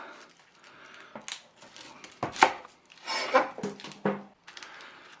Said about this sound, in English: chop the ends off.